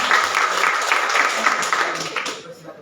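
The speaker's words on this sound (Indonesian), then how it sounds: "kita beri tepuk tangan yang meriah" Church congregation in Jakarta applauding warmly as a ministry leader is welcomed, a dense, steady wash of many hands clapping that holds for a few seconds and then tapers off.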